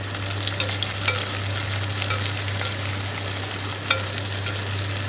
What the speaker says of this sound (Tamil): ஸோ ஆனியன் நீட்டாக கட் பண்ணி வச்சுருக்க ஆனியனை நான் இப்போ ஆட் பண்ணுறேன்.